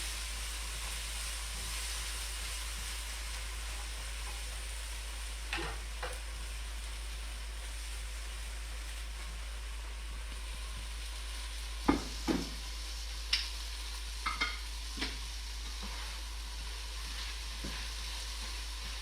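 Onions softening in a frying pan give a faint, steady sizzle and hiss over a low hum, with a few soft clicks and stirring knocks scattered through the second half; no talking.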